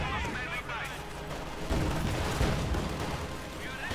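Tank cannon fire and shell impacts from a Panzer IV battle in Company of Heroes 2, with heavy booming blasts and rumbling explosions over continuous game noise.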